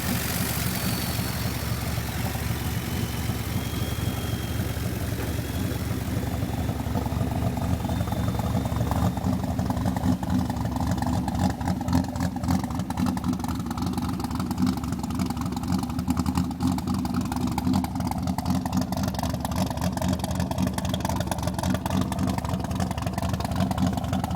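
A rat rod car's engine idles steadily and close for a long stretch, giving a continuous rumble with a fast, even pulse and no talking.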